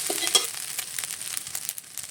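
Small chuno mouti fish fry in hot oil with a steady, moderately loud crackling sizzle and scattered sharper pops. No voices.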